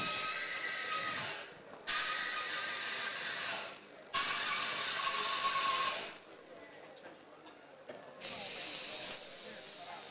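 An espresso machine steam wand purges dry steam in several long bursts, loud hissing blasts separated by short pauses, close and clear with no one talking.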